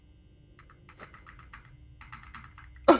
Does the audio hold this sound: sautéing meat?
no